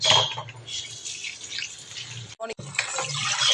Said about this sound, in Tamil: கீரை நல்லா வாஷ் பண்ணிக்கலாம்